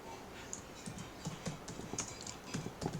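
Fast, light keyboard typing during a SQL coding lesson, a soft close patter of key clicks with no pauses, quiet and steady.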